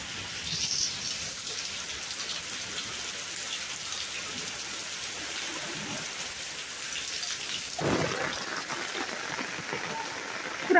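Heavy rain pours down steadily outside a home garage, a dense continuous hiss of drops hitting surfaces with a brief heavier surge partway through and no talking.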